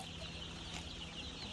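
Around 500 young chicks on a poultry farm, heard as faint, distant cheeping and clucking over a steady background hum, with no one speaking.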